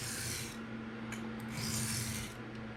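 Backward edge-trailing strokes on a Kunwu Chad knife during freehand sharpening with a PM60 edge, a steady close rasping rub of steel on stone running continuously with slight swells.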